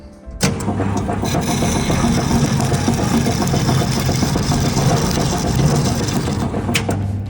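STvega VML H150 pumpkin peeling machine starting up and running steadily, a loud continuous mechanical whirring drone that holds for several seconds after an abrupt start.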